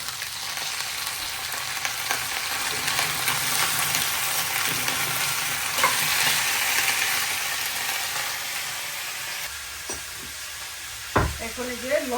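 Chopped onions and vegetables fry in a pan, a loud continuous sizzle with stirring throughout, easing off near the end with a couple of utensil knocks.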